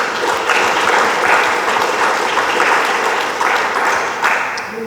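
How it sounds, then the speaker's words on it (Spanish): A church congregation applauds in sustained, dense clapping that keeps a steady loud level with slight surges before tapering at the end. "Dele palmas al Señor."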